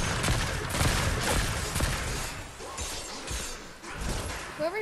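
Gunfire in Fortnite comes as dense clattering bursts and impacts in the first couple of seconds, then thins into scattered hits and crashes, loud and close throughout.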